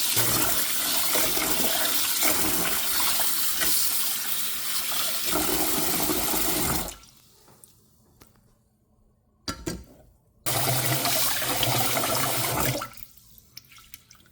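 Running water pours steadily from a tap while rice is washed for a rice cooker in a home kitchen, loud and continuous, then cutting off, briefly resuming and stopping again.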